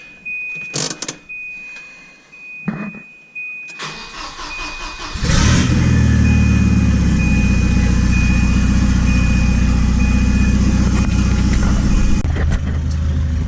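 A car with a manual transmission cranks and starts, then settles into a steady, loud idle after a few clicks and rustles from inside the cabin.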